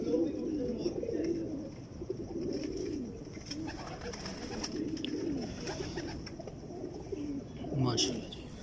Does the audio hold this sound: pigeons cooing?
yes